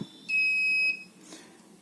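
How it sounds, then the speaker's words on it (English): A single high-pitched electronic beep lasting over half a second, loud and clean against a quiet room hum, from a PIR motion sensor alarm on an Arduino. "Did you see the beep sound? That is from my motion."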